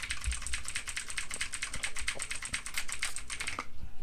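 Typing on a wireless RGB mechanical keyboard with blue switches: a fast, steady run of crisp, clicky keystrokes, close and alone.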